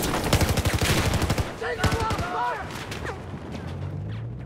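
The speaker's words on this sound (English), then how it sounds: "I have eyes on an enemy machine gunner" Machine gun fire in Battlefield 4, a rapid burst of close automatic shots for about a second and a half, then scattered shots and muffled battle noise with a voice briefly heard.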